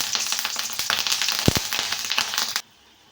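Green chillies hit hot oil in a pan for coconut chutney, giving a loud, busy crackling sizzle with sharp pops that cuts off abruptly near the end.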